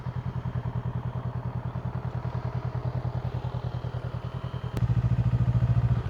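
A Honda motorcycle engine putters close by in a steady rhythmic chug as it is parked on gravel, with a brief sharp clack partway through before the idle resumes slightly louder.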